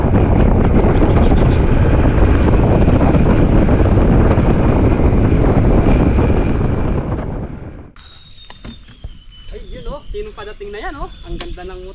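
Loud, steady wind rush buffets the mic while riding a Yamaha Aerox scooter fitted with a windshield, then cuts abruptly to quieter sound with faint voices and chirpy tones.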